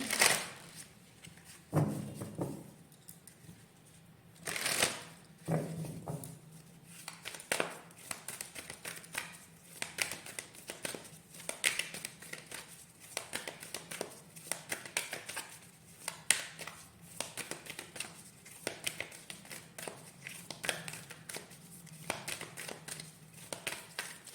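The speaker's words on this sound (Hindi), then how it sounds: "अच्छा, आपके लिए हम थोड़ा सा ओरेकल कार्ड्स निकालते हैं।" Oracle cards are shuffled and drawn by hand, close up, giving a string of soft taps, riffles and sharp card slaps at an irregular pace, with no talking.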